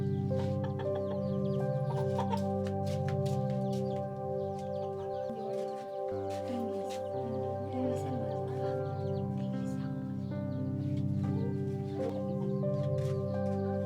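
A rooster of about 1.8 kg, up for sale, clucks in short bursts amid steady tonal background sound, while people talk nearby.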